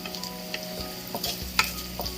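Onion browning with a pinch of salt in a non-stick frying pan: a quiet, soft sizzle under occasional scraping stirs and light utensil taps.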